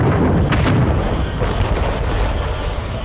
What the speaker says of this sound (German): Ey, das ist schon geil mit den Kanonen.